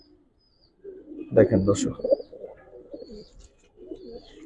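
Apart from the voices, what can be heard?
pigeons cooing, Giribaz pigeon collection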